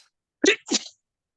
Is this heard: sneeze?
yes